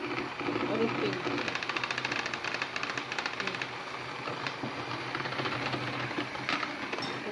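Eggless cake batter for a date cake is beaten in a bowl, giving a fast, steady rhythmic clatter that runs close and fairly loud throughout without pause.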